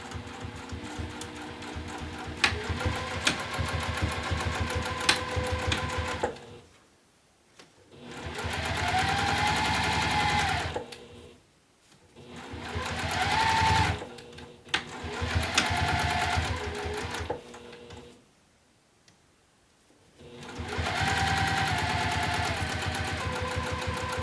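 A sewing machine backstitching strap connectors onto an apothecary bag with metal hardware, several close, loud bursts of rapid mechanical stitching separated by short silent pauses as the direction reverses.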